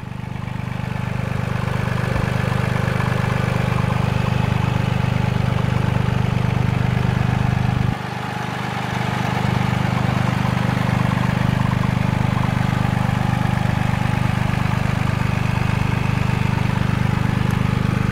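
A 2021 Toyota GR Yaris 1.6-litre turbocharged three-cylinder engine runs steadily with a low, even drone, briefly dipping in level before settling back into the same hum.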